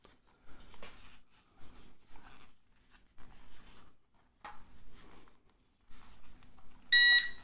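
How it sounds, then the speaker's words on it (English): A ZLL SG908 drone undergoing compass calibration gives a short, bright electronic beep near the end. Before it, quiet handling and rubbing noises come in soft bursts, with no talking. "There's another beep, and it looks like the lights are solid"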